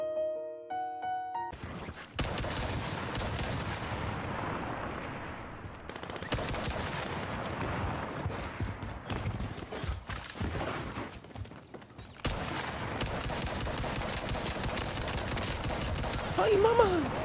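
Rapid automatic gunfire in the online shooter game Warzone, long loud bursts of machine-gun shots broken by short pauses, with a player's voice occasionally heard over the firing.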